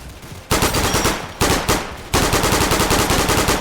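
A video game gun that handles like a cross between an assault rifle and an SMG fires in three rapid bursts of loud, tightly spaced shots, separated by short pauses.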